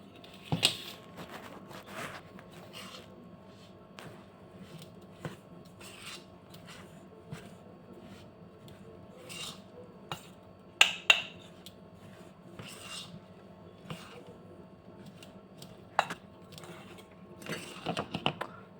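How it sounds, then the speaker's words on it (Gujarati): Rice flour, chopped curry leaves and fresh coriander are mixed in a bowl, giving soft, irregular scraping and rubbing with occasional sharper ticks of utensil against the bowl. No one speaks. "હવે આપણે બધી જ વસ્તુ પહેલે મિક્સ કરી લેશું।"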